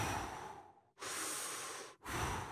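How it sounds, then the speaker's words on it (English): A person doing a deep breathing exercise, with two long, loud breaths drawn in and pushed out close to the listener, separated by short pauses. "Take a deep breath, okay?"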